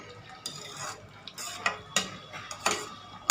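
Sugar-free khoa is being mixed into an Eid sweet in a pan, with repeated metallic spoon scrapes and clinks against the pan at an uneven rhythm, close and clear.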